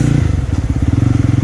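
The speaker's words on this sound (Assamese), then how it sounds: "লেটেষ্ট ক্ৰেকলছ মাৰিছে মানে পপছ এণ্ড বেংছ" Jawa 42 motorcycle exhaust revved close up, a loud rapid rumble broken by irregular crackles, pops and bangs running through the whole burst.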